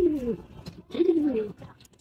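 A red checkered racing pigeon coos close by, two throaty rolling calls in quick succession with a brief pause between them.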